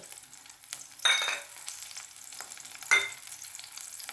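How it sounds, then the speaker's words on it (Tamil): Two green chillies hit hot oil with two brief bursts of sizzling, the second a couple of seconds after the first, over a soft, steady frying hiss, close and quiet, with no talk. "இது வந்து ரெண்டு பச்சை மிளகா அந்த எண்ணெயில் போடுறேன்"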